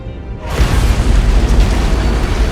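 An antimatter charge detonates aboard a ship in Halo: Combat Evolved Anniversary, a heavy booming blast that swells after a brief moment and rumbles on loudly with deep low-end roar.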